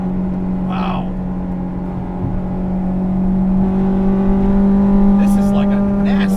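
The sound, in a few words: 1998 Acura Integra GSR engine revving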